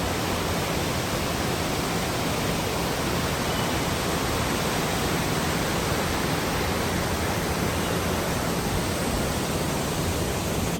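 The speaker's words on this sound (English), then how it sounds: "There is another waterfall on the way from Athirapally to Vasachal Falls," Charpa Falls, a waterfall in Kerala, roars as a steady, dense broadband rush that holds constant and close throughout, with no voices.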